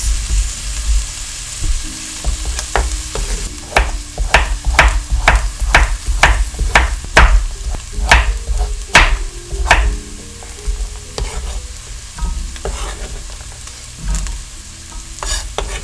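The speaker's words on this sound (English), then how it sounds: "I just want to bring a little bit of flavor out in the onions, cook them through just a bit." Onions sautéing in a pot for a dairy-free broccoli cheese soup, a steady sizzle broken by a run of sharp, regular spoon taps and scrapes against the pot, close and fairly loud, no voices.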